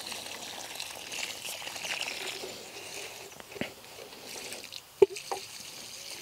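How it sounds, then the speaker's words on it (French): Water poured from a watering can onto the soil at the foot of a pruned spring-flowering deutzia shrub, a soft steady trickle and splash close by, with a few sharper drips and knocks toward the end. "je vais mettre un bon arrosage"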